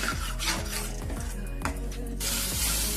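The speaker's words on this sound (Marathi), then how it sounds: "प्युरीला तेल सुटूपर्यंत परतून घेऊया" Tomato puree sautés in oil with a low sizzle while a spoon scrapes and rubs against the pan in repeated strokes, close by with no talking.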